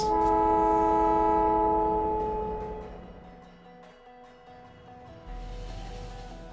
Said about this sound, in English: There comes more trains.